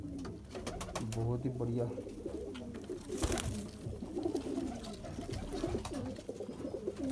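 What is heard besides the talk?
pigeons cooing, Golden breed kept by a pigeon fancier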